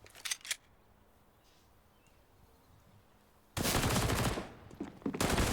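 Gunfire in the video game CS:GO comes as a short burst of shots at the start, then a quiet lull, followed by a loud, sustained rapid volley of automatic fire that fades briefly and resumes.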